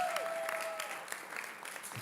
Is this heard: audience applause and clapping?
yes